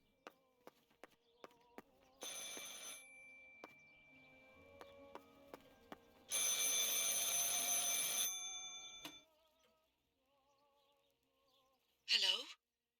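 Telephone ringing in the video game Martha Is Dead, bursts of bright electronic ringing separated by quiet gaps, mixed with scattered clicks, soft footsteps and a short whooshing sweep near the end.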